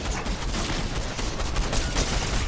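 Dense, continuous gunfire in a team shooter game, a loud sustained barrage of overlapping shots and blasts filling the whole moment with no clear gaps.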